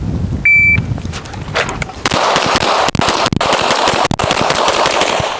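Pistol shots ring out during a shooting drill, a beep starting the run, then a loud, rapid string of sharp reports close by, several distinct cracks standing out over continuous firing on the range.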